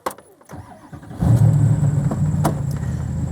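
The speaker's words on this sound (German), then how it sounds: "Ich würde sagen, ich starte einfach mal. Fahren wir mal los." A Mosler MT900 sports car cranks and fires up, its engine catching with a sharp burst then settling into a loud, rough, close idle and pulling away, with no talking.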